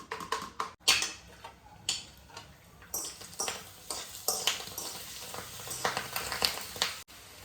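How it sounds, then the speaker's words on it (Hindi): Mustard oil crackling and spattering in a hot pan at home, a steady run of sharp pops and ticks over a low sizzle, fairly close and moderately loud, with no talking. "ये तेल ना चट चट फूटता है"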